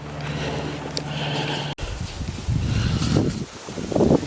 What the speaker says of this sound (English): Wow, a little windy today.